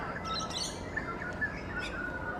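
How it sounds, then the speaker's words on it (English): Ducklings at an outdoor wildlife setting give thin, high chirps and peeps, scattered irregularly over a steady background hiss of water or wind. "Oh, ducklings."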